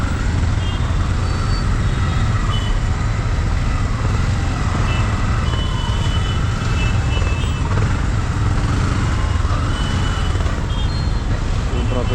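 Heavy evening city traffic near Versova and Andheri, a dense steady roar of trucks, cars and buses close by with a faint beeping, continuous throughout while someone talks.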